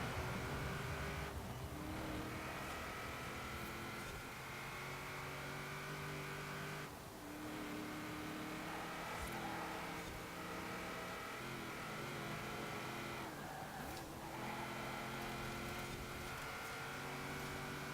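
A powerful 7-litre non-supercharged car engine in Forza Horizon 4 drones and revs steadily, with gear shifts and brief surges, loud and continuous with no talking.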